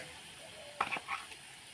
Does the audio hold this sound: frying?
yes